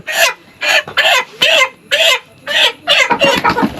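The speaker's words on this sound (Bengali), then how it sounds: "এখানে আমরা মুরগি নিচ্ছি" Live chickens being bought for kebabs in Purulia, West Bengal, clucking loudly and repeatedly close by, a rapid series of sharp squawking bursts.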